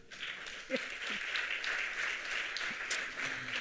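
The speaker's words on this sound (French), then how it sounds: "vous pouvez l'applaudir" Audience clapping at an international colloquium on age-friendly cities and communities, a steady crowd applause with a voice or two faintly mixed in underneath.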